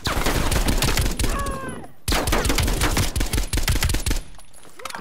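Call of Duty Cold War gunfire: loud, rapid automatic bursts hammer almost continuously, with one brief pause before the firing resumes.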